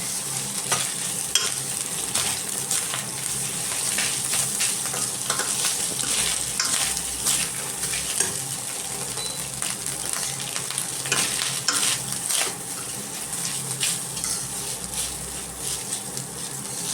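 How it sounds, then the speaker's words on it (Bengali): Cooked rice being stirred and mixed with prawns in a frying pan, with a steady sizzle and repeated scraping, tossing strokes running throughout, close and fairly loud with no talking. "এবার আমরা এর মধ্যে রাইসটা অ্যাড করব। ভালোভাবে এর সাথে একটু মিশিয়ে নেব।"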